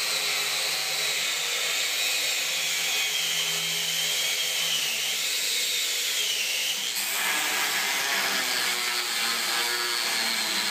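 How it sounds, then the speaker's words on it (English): Steady, continuous grinding of a power tool cutting off a metal bushing on a tractor loader pin, loud and close, with a shift in pitch partway through and no talking. "cut off that bushing."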